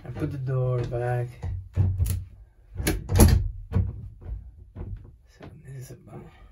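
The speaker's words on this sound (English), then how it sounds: "now I put the door back." Teardrop trailer door lifted back into place and shut, giving a few close knocks and a solid clunk mixed with handling noise while someone talks throughout.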